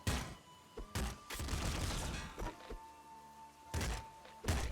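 The triple machine gun in the video game Nuclear Throne fires in several dense bursts of punchy, thudding shots, loud and close, with short pauses between volleys and no talking.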